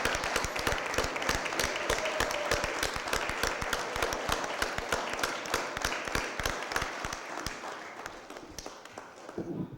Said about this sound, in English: Let's all give Alderman Terry Kennedy a round of applause.